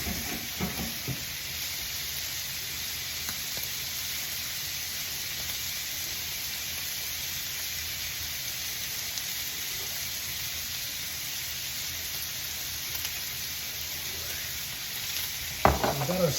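Cow tongue browning in a pan for stew, a soft steady hiss of frying that holds evenly for a long stretch, with a couple of small knocks near the end.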